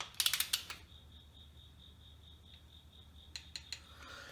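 A torque wrench set to 20 foot-pounds tightens crankshaft bolts during an engine build, a quick burst of ratcheting clicks followed by a steady tone and then a few more sharp clicks, close and fairly quiet.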